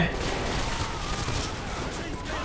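Rifle gunfire from Call of Duty: Modern Warfare 2 rolls on as a dense, continuous barrage, loud and sustained across the whole stretch, with no distinct pauses between shots.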